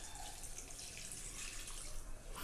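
About 2 cups of water pour steadily into a dal cooker holding dal with turmeric and coriander powder, a faint, continuous splashing stream heard up close without a break.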